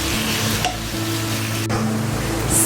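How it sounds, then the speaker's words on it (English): Onions frying in a pan over a high flame for a Hyderabadi green chicken curry, giving a steady loud sizzle with soft stirring scrapes throughout. "Keep the flame high and let's fry these onions till they are dark brown in color."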